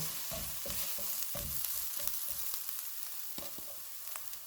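Dry mango powder, crushed cumin and crushed coriander roast in a pan, giving a quiet, continuous sizzle. A spoon repeatedly knocks and scrapes the pan in an uneven rhythm.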